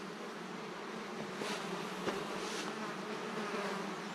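Insects buzz steadily around a campsite in the Green Mountain National Forest, a continuous droning hum with a few louder passes as they fly close, no voices.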